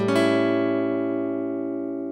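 A seventh chord struck once and left ringing on its own, its tones sustaining evenly and slowly fading over about two seconds.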